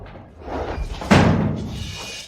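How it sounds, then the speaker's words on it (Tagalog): An interior door slams shut once with a sharp, loud thud in a quarry factory setting during a tense confrontation, followed by a short decaying rumble amid scuffling noise. "Isara ang pinto."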